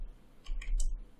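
Two or three quick, sharp mouse clicks in close succession, heard alone against a quiet background.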